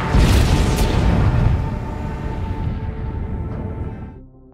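A film explosion from a zombie movie in a fallen city: a loud, broad rumbling blast that fills the opening seconds, then rolls and decays over a few seconds into fading debris and low hiss.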